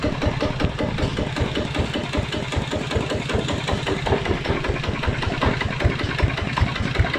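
A diesel engine idles steadily up close, a low rhythmic chugging with a dense rattling knock, constant and loud throughout with no voices.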